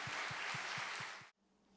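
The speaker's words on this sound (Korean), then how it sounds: "우리 그렇게 하실 하나님께 감사의 박수 올려드립시다." Church congregation bursting into loud, dense applause during a Sunday morning worship service, steady clapping for about 1.3 seconds before cutting off abruptly into near silence.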